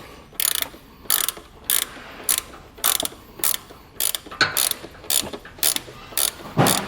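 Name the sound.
ratcheting 14 millimeter wrench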